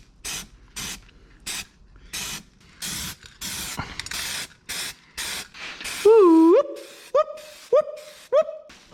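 A rattle can sprays paint onto the chassis cart of a 1963 Loadstar truck in a shop, a string of short hissing bursts close to the mic, followed by a few brief whistling rattle sounds at the end.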